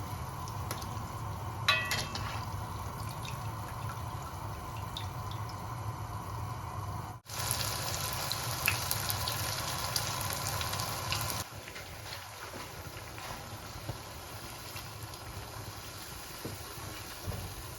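Evening snacks deep-frying in oil over a medium flame, a steady dense crackle and fizz throughout with a brief dropout partway and occasional sharper pops, close and fairly quiet.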